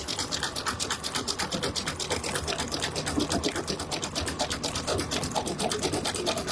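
An embroidery machine stitches out a Halloween spider coaster with a rapid, steady mechanical chatter of needle strokes, close and continuous with no talking.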